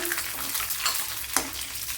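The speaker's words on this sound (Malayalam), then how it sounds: "ഇവിടെ ഉള്ളിയൊക്കെ വഴണ്ട് വന്നിട്ടുണ്ട്. അതിലേക്ക് പച്ചമുളക് ഇട്ട് കൊടുക്കാം." Onions sautéing with green chillies in a pan for a Kerala cucumber curry, giving a soft, continuous sizzle with a few light stirring scrapes, fairly quiet and with no talk.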